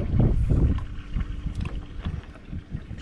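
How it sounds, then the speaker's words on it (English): Strong wind buffets the microphone on a fishing boat on the Cooper River, a loud rumbling gusty roar with water slapping against the hull. "basically the wind is blowing pretty bad"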